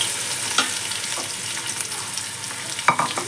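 Two large, thinly sliced onions fry in a pan for goat head curry, making a loud, steady, close sizzle with a couple of brief stirring clinks.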